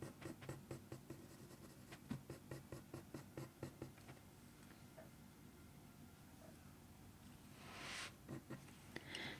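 Colored pencil laying down dark fur marks on paper for a leopard eye drawing: close, rhythmic scratchy strokes repeat for several seconds, then softer scattered rubbing and a brief louder scrape.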